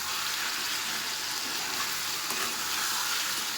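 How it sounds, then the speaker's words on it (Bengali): Young jackfruit sautéing in a pan gives a steady, close sizzle with soft stirring scrapes, continuous throughout and without voices. "এখন এটা আমি ভালো করে কষাবো এঁচোড়টা, যেন কোনো রকম কাঁচা গন্ধ না ছাড়ে।"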